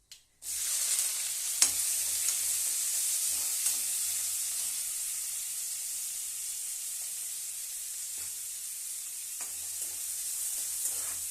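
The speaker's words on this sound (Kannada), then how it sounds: "ಇವಾಗ ನೀರುಳ್ಳಿ ಕರಿಬೇವು ಹಾಕ್ತಿದ್ವಿ" Onion and curry leaves frying in hot oil with mustard seeds, chana dal and urad dal for festival vegetable avalakki: a loud, steady close sizzle starting abruptly and running throughout, with occasional faint clinks of stirring and no talk.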